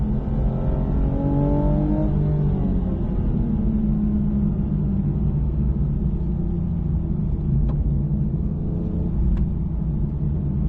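Car accelerating hard on a driving track at Lohéac, a loud close engine rumble climbing in pitch early, then holding a strong steady roar with a couple of brief sharp clicks near the end.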